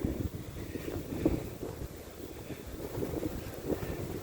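Light south breeze blowing outdoors at a beehive yard, a steady soft rush of wind buffeting the microphone with low gusty rumbles and no talk.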